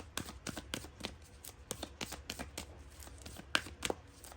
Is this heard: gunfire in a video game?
no